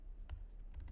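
Computer keyboard typing a terminal command, a few quiet, sharp key clicks in a short burst with no talking.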